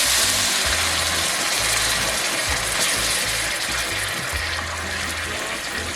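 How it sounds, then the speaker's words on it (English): Chicken broth poured into a hot pan of browned chicken adobo, a steady splashing hiss and sizzle that carries on for several seconds under a low hum. "So I'm going to add my chicken broth, which is a substitute for water."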